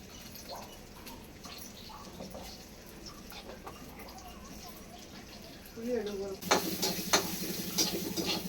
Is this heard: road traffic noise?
no